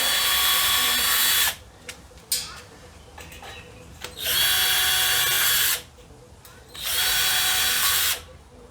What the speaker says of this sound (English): Drill 4 pilot holes.